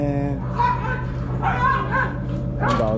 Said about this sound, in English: Them dogs out there fighting.